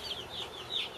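Day-old Cornish Cross meat chicks give high, rising peeps, several chirps overlapping in quick succession, close by and fairly soft against a quiet background.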